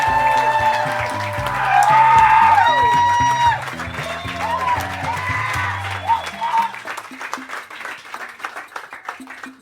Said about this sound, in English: Everyone, give a warm, warm round of applause to Kevin James Doyle.